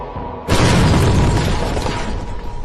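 A sudden loud gunshot blast erupts in a movie scene after a short quiet lead-in, followed by a dense, roaring burst of shots that slowly tails off.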